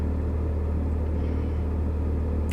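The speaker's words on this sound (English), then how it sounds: "but I'm just sitting here letting the car warm up" Car engine idling as it warms up during a snowstorm, a steady close low rumble holding an even level throughout, with no talk.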